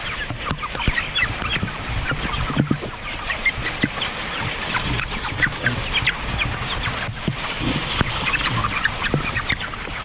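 Freedom Ranger chickens out on pasture keep up a steady, overlapping clucking and chatter, a busy flock close by with occasional louder calls standing out against a constant outdoor background.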